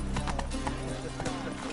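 Roach the horse gallops in The Witcher 3, a rapid rhythmic run of hoofbeats close by, with a voice talking over it.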